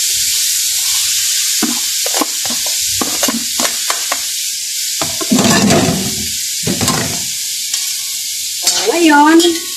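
Sliced bitter gourd being stirred in a sizzling pan, a soft background sizzle broken by irregular scraping strokes of a utensil against the pan, close up, with brief bursts of louder hissing and no talk.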